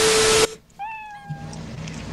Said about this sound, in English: Why are you showing me this ugly ass cat?